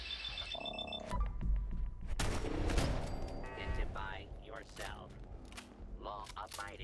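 An automated turret in Fallout 4 fires a cluster of sharp gunshot bursts in the middle of the stretch, set among other game noises and electronic tones at fairly low overall volume.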